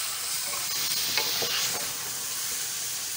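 Chicken frying in a karahi for Shanwari karahi, with steady close sizzling throughout and several short scraping stirs of a spoon against the pan.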